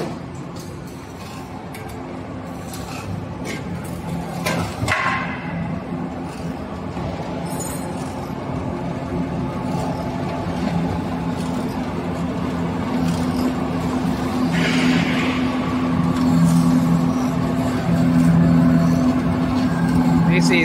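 A screw oil press machine runs with a steady low mechanical drone and hum, pressing oil cakes at an even level throughout, with occasional brighter clatter and voices talking faintly in the background.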